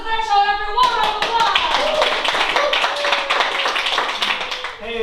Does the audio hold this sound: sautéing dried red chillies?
no